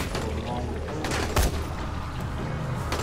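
A 24-round gun fires in the co-op zombie game Dying Light, a close, loud rattling burst of rapid shots with one heavier boom at its peak.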